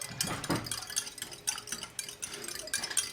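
A whisk stirring starter culture into milk in a pot while making buttermilk: quick, quiet, irregular clinks and liquid swishes close by, recurring in short bursts.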